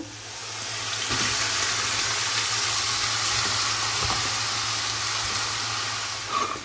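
Eggs frying in oil in a pan with turmeric and salt, a steady close crackling sizzle that holds at an even level throughout, with a few faint clinks and stirs.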